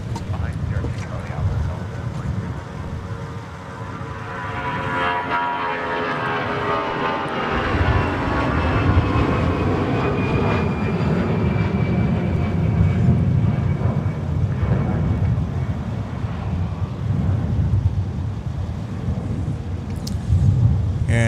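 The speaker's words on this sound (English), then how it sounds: "Got another Airbus A320 series departing runway 30 left" An Airbus A320 series airliner departs runway 30 left at Minneapolis–St. Paul airport in winter, its engines a broad, rising then sustained roar with tonal whine, heard from a distance under an announcer's talk.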